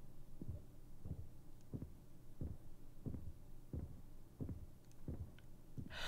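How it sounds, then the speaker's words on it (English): Soft, heartbeat-like thumping in the Honkai Impact 3rd video game soundtrack: a steady run of about ten low, muffled pulses, evenly spaced under a faint hum, with no talk. "Oh, I thought that was my heart beating."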